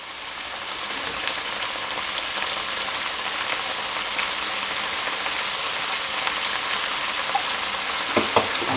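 Minced meat for lasagne sizzling hard in a hot pan after the heat is turned up, a loud steady broadband hiss with crackling pops throughout and a few sharper spits near the end.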